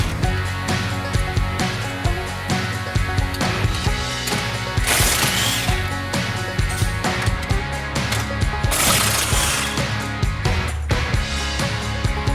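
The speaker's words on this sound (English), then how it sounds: "you can remove the 4 bolts that hold on the rear of the A-arms" Continuous rapid clicking of a ratchet wrench as bolts are loosened on the rear A-arms of a Can-Am Defender, loud and close, with metallic clanks and short pauses between runs.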